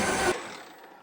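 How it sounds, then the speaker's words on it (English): The cooling fan of a spiral mixer for dough keeps whirring after use: a loud broadband rush for a moment, then a softer steady hum that continues on its own. "you hear that? The fan's still going on here."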